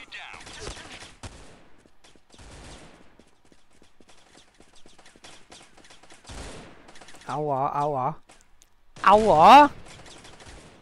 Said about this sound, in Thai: ฆ่าทีมมันใช้ปืนกลไง